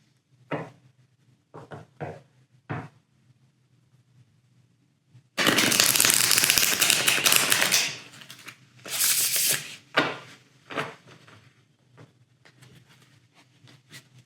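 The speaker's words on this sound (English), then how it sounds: "Just going to reshuffle like this." Tarot cards being shuffled close up: a few soft taps, then a long dense riffle burst, followed by a shorter riffle and scattered light card snaps.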